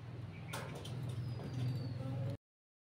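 A pigeon or dove coos close by, a soft repeated low call over quiet room background, cutting off abruptly.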